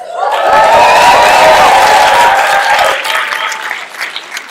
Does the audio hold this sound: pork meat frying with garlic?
no